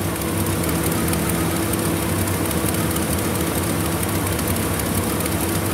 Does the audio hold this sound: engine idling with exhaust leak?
yes